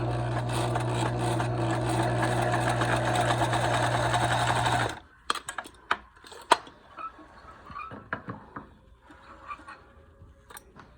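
A sewing machine stitches a line of fabric in a loud, even whir for about five seconds, then stops, leaving scattered small clicks and handling noises.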